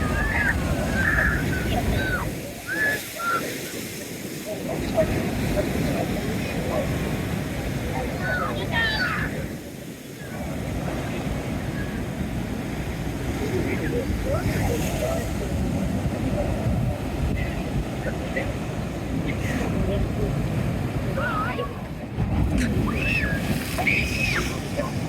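Ocean waves surge and splash against a busy seafront, a continuous broad rushing wash with louder breaking swells, while people talk nearby.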